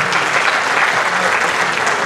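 An audience in a concert hall applauds a university choir from Iloilo City, with dense, loud, continuous clapping that stays steady throughout.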